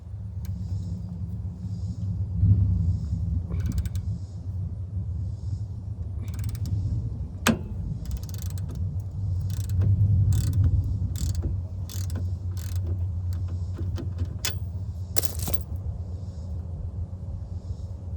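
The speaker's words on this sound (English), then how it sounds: "I think we need to torque this down, these two, and the axle nut." Ratchet wrench tightening an axle nut and bolts on a daily-driver car during an overhaul, giving repeated clicking bursts and sharp metallic snaps over a low garage rumble.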